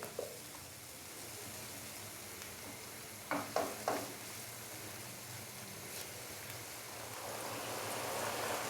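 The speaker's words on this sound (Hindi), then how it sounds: "अच्छे से मिक्स करेंगे और यहाँ पे हम मसाले को भून लेंगे 4 से 5 मिनट के लिए" Spices with turmeric and cumin roasting in a pan, a low steady sizzle with a few quick scrapes of a spoon partway through, faint and close.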